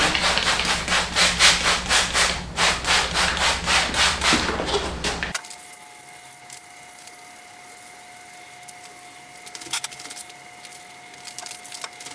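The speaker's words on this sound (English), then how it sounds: "I've got everything sanded to 320 wet sanded." Wet sanding of a 100-year-old steel safe to 320 grit: rhythmic rubbing strokes, close and fairly loud, repeat for about five seconds, then stop, leaving a quiet room with faint steady hum.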